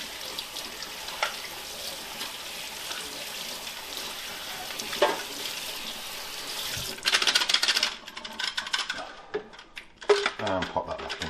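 Water is swirled and sloshed to rinse the filter of a Tineco iFloor One S3 cordless hard floor cleaner, a steady close wash of sloshing with scattered small clinks and a louder rush near the end, under some talk.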